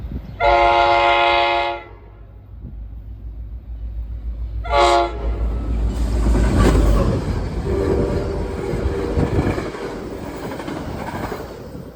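A train horn blasts twice, a long toot then a short one, followed by the loud rumble and clatter of a passing commuter train in Ramsey, New Jersey.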